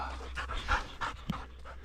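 A dog pants heavily and rhythmically close by during a sika deer rut hunt, quick breathy puffs repeating steadily for a couple of seconds with no talking over them.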